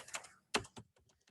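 Keys clacking on a computer keyboard while code is typed into the PyCharm editor, a few quick close keystrokes in short bursts with a stronger cluster in the middle, no talking.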